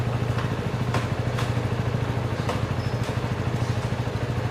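A 2025 CF Moto 250 SR Lite motorcycle engine idles steadily nearby, a low throbbing putter with light mechanical clatter and a few faint clicks, no voices.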